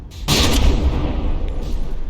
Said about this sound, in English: And shot in the face by a cannon, as usual.